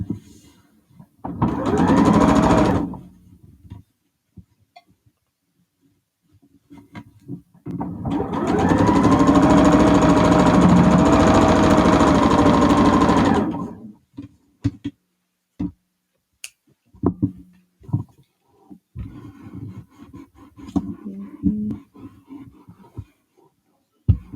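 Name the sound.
sewing machine stitching quilt block seam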